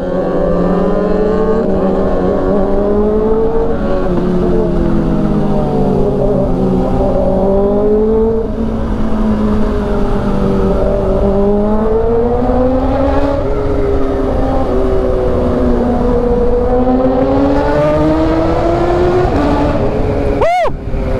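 Kawasaki big bikes rev their engines loudly and continuously, the pitch rising and falling through repeated throttle blips, close by and with no voices.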